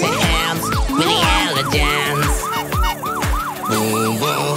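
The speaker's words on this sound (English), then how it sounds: "The ambulance." A cartoon-style ambulance siren wails in a repeating up-and-down pattern through a kids' safety song, loud and steady over thumping backing music for the whole stretch.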